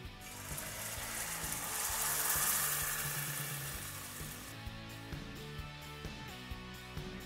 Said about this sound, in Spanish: En la misma cacerola donde hemos hecho todo, con un poco de aceite voy a agregar el caldillo